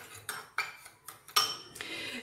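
Spoon scraping and clinking against a bowl while dry ingredients are mixed for a homemade body scrub, a series of sharp taps and scrapes at irregular intervals, close and fairly quiet, with no voices.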